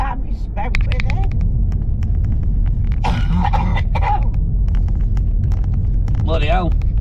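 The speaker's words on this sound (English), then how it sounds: "Keep coughing like that." A passenger coughs repeatedly inside a moving taxi, harsh bursts close to the microphone over the steady low rumble of the car engine and road, with conversation between the people inside.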